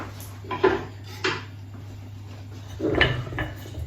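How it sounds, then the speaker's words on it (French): Financier batter being mixed with vanilla in a bowl, with a few distinct clinks and scrapes of a utensil against the bowl over a low steady hum, close and fairly quiet. "Donc je mélange de nouveau avec la vanille."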